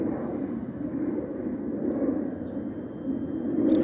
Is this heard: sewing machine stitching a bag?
no